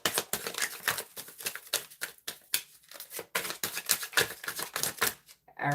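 Tarot cards are shuffled in quick, crisp bursts of riffling and slapping, each burst close and sharp, with brief gaps between them and no talking.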